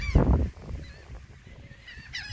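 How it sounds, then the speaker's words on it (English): Birds calling outdoors, a crow among them, with one loud harsh honking call up close at the start, then quieter scattered calls and a brief high chirp near the end. "We have a crow here. We got all these different birds here, you guys."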